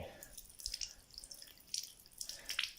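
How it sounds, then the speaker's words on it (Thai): Water trickling and dripping from a 20-liter camp shower bag onto hands being washed, a faint, uneven splatter with small splashes close by and no speech over it. "มันสามารถล้างมือ ล้างมือได้นะครับนี่"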